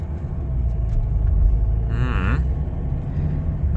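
A 2016 Volvo XC60 with an Aisin Warner 8-speed automatic gearbox drives along, its engine giving a steady low rumble throughout, heard from inside the cabin with a brief tonal whine partway through.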